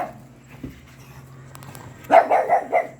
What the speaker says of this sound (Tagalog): May aso din dito.